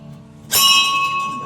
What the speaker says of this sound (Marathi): चला वाजवली त्यानं पण घंटी